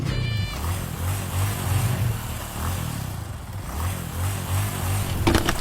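A motorcycle engine runs steadily at a low idle with a rhythmic, pulsing throb, close and fairly loud, with a brief sharp rattle near the end.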